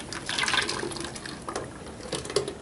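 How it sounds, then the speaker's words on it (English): Homemade ice cream mixture is poured into the container of an ice cream machine, a steady liquid splashing and trickling with a few uneven surges, close and fairly soft. "you're going to pour it into your ice cream machine."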